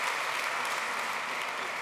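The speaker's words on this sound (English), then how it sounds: "And this is your applause." An audience claps steadily at a climate and technology conference fireside chat, a dense, even wash of applause with no pauses.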